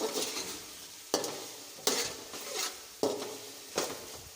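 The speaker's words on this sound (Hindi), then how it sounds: "दो 3 मिनट के लिए आलू को मसाले में भूनते हुए पका लेंगे" Finely chopped potatoes stir-fried in masala in village-style cooking, a soft sizzle punctuated by about six distinct spoon strokes scraping the pan at a fairly regular pace, fairly quiet and without voices.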